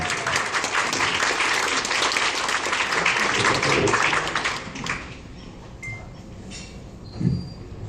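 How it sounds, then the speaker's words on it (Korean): A room at a Harvard Club of Korea event bursts into loud applause after a speech, lasting several seconds, then fades to scattered claps and a few knocks and shuffles. "큰 박수로 보내주십니다"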